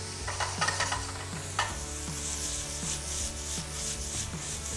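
Frying in a pan with olive oil and a pinch of salt, a continuous close sizzle with brisk rhythmic stirring scrapes and rubbing over a low steady hum, no voices.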